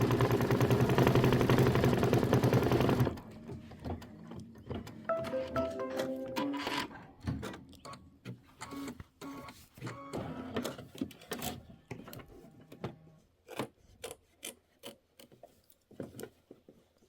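An embroidery machine stitches the tack-down line on a Kimberbell mini quilt with a loud, buzzing, rapid run for about three seconds. It then stops, leaving quieter scattered clicks and handling noises.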